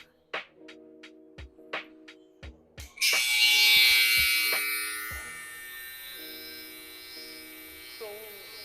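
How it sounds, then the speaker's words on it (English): An electric hair trimmer switches on with a sharp bright buzz after some clicks and handling noises, then hums steadily and close while cutting a guideline on a taper haircut, easing slightly toward the end. "we're going to use our trimmer and we're going to set our first guideline in"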